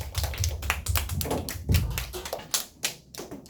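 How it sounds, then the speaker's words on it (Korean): Congregation applause at a Korean church youth service: irregular bursts of clapping hands with uneven rhythm, moderately close, with no talk over it. "우리 함께 감사 박수 올려드리겠습니다"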